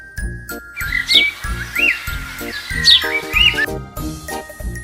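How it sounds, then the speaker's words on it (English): A sparrow's chirping, heard as bright repeated bird tweets over a bouncy, rhythmic children's tune with regular beats, four chirp phrases spread across the music. "what sound does a sparrow make? A sparrow says,"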